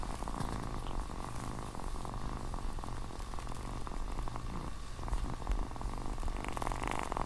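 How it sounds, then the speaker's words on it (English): A tiny happy kitten purrs in a soft, steady rhythmic rumble, close and fairly quiet, continuing alone throughout. "it is the sound of a happy kitten"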